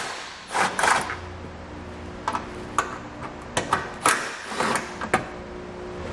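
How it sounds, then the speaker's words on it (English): A 10mm ratchet wrench working bolts loose under a 2019 Subaru Forester, rapid clicking bursts and metallic ticks spaced irregularly, close and fairly loud, no one speaking. "So I'll use a 10mm to get those off."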